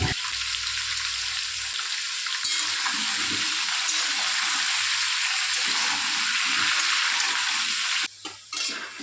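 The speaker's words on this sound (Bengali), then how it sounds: "কড়াইতে সর্ষের তেল গরম করে আমি মাংসের আলুগুলো ভালো করে ভেজে নেব" Potatoes fry in hot mustard oil in a wok, giving a steady, loud sizzle with occasional stirring scrapes, continuous and close, ending with a few clinks and a brief drop in the frying noise.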